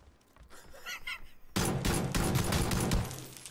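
Rapid bursts of automatic gunfire from a shooter video game break out suddenly after a quieter stretch, loud and dense, with a few faint sounds before them.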